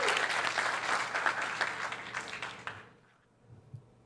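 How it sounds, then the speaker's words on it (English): An outdoor graduation crowd at a charter school applauds the graduates with loud sustained clapping that tapers off and fades to near silence near the end. "Let's clap it up for our graduates."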